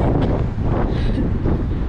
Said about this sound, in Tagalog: Napakahangin. Ewan ko kung maririnig nyo ba. Sobrang hangin.